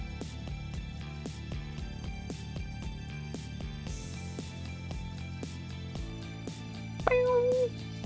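A cat gives one short meow near the end, heard over steady rhythmic music with a regular beat.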